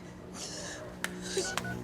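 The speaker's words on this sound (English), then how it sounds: "Gotta ring Debbie." Telephone keypad dialing tones from a phone in a drama series, a quick sequence of steady beeps heard close and alone over a faint background hum.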